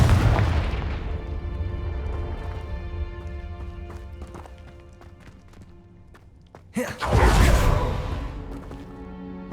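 A Confringo fire spell explodes in Hogwarts Legacy: a loud whooshing burst decays over several seconds into a ringing tail, then a second sharp blast erupts near the end, with no voices.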